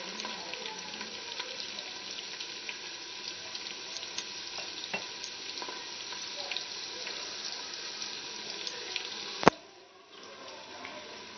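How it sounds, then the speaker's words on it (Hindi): Onions fry in a pan until brown, making a steady, quiet sizzle with occasional small pops and one sharp click near the end before the sizzle continues more softly. "प्याज जो हमारा है वो ब्राउन हो रहा है"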